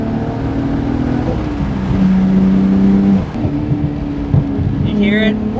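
A Japanese domestic-market sports car engine hums and revs in steady tones, rising in pitch midway and then settling, heard close from inside the car, with a brief voice near the end.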